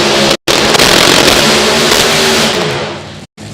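Methanol-fueled funny car launching at a Texas Motorplex drag race, a very loud, harsh, broadband engine roar that blasts nearly the whole time before fading off.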